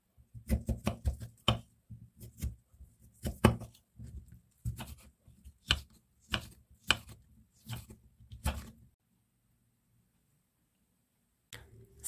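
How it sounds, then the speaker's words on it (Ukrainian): A knife dices cucumber quickly on a cutting board in rapid bursts of sharp taps, then stops, with one last tap after a pause. "Свіжий огірок нарізаю кубиками."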